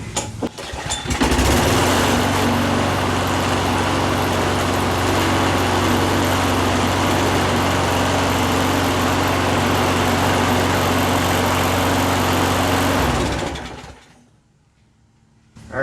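A small engine, just fitted with a repaired starter recoil spring, roars loudly and steadily up close for about twelve seconds before abruptly cutting off into near silence.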